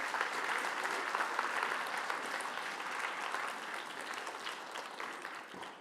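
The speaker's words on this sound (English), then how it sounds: "I think I deserve a round of applause for that." Audience applause at a talk, a sustained, even patter of many hands clapping, moderately loud and tapering slightly toward the end.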